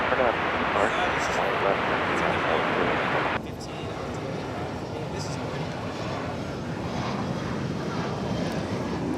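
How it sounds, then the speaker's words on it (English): An American Airlines 737-800 arriving at DFW produces a broad, loud airliner roar that drops abruptly partway through and then settles into a lower, steady rumble. "Texas, the capital of the state, is Flight 2198, American Airlines 737-800."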